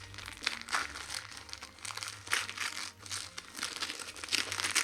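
Wrapping paper being crumpled and torn off a gift-wrapped book, continuous close crinkling and ripping with bursts of louder tearing, no talk.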